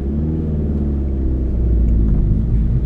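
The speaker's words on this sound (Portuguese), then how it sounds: "Este carro, todo estragado a fazer barulho." A damaged car engine rumbles loudly and close, a low, rough, steady drone with slight rising revs toward the end and no talk over it.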